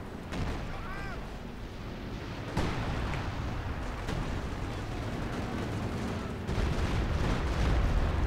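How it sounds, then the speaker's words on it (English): Artillery fire in Company of Heroes 2, heavy booms and rumbling impacts over a dense battlefield din, with a spoken voice partly under the noise. "Artillery kind of hits this region."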